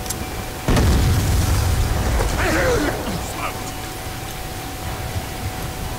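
A frag grenade explodes in the video game Black Ops 2 with a sudden loud blast, followed by a rumbling decay lasting a couple of seconds. Faint voices come through under and after the boom.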